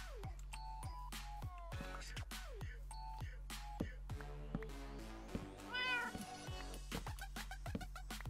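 Minecraft cat meowing repeatedly over steady game music with chiming notes, the meows clear and moderately close.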